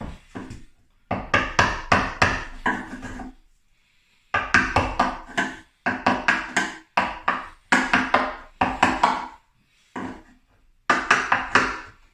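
Bursts of sharp, rapid knocks of a hammer striking a chisel into a wooden door, in clustered series separated by short pauses, close and loud.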